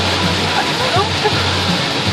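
Heavy rain pouring down in Mexico, a dense, steady hiss of water with faint splashes throughout.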